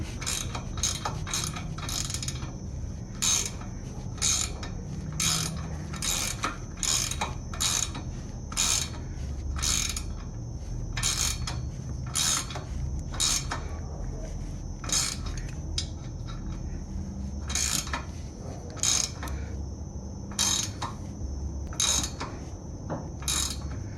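A ratchet wrench tightening a lock nut on a bolt through a loose trailer hitch, close, rapid metallic clicking in regular bursts with brief pauses between strokes.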